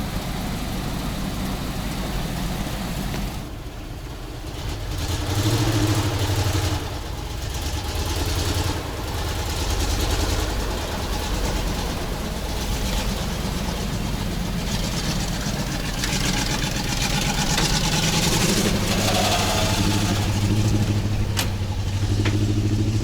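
Petrol ZIL 10x10 off-road truck engine running steadily, a low, rough rumbling idle and revving that fills the whole stretch, loud and close with slight swells in intensity.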